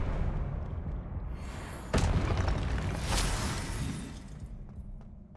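Expelliarmus spell effect in Hogwarts Legacy, a loud, dense booming blast with a sharp crack partway through, then a rumbling tail that slowly fades.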